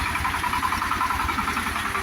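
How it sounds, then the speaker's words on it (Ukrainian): A Shifeng SF 244 mini tractor engine runs at idle close by, a steady, even mechanical chug with continuous vibration and no pauses for the whole stretch. "Ось такий тракторець перевірений, відгружається."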